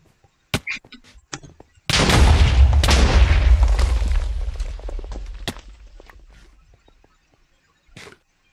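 Gunfire and explosive blasts in a Bedwars video game: a few sharp cracks, then a loud sustained boom-laden barrage that slowly fades, with one last isolated shot near the end.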